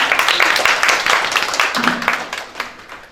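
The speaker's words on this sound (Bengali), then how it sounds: "আসুন আমরা করতালির মাধ্যমে স্যারকে মঞ্চে আহ্বান করি।" Audience applause at a Human Rights Day event as a speaker is welcomed to the stage, brisk close clapping from a modest crowd, loud at first then thinning out, with a voice briefly heard underneath.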